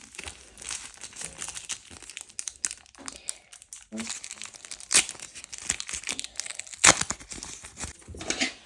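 Paper surprise packets are crinkled and torn open by hand, giving bursts of close, crisp rustling and tearing that come and go, with sharper crackles at a few moments.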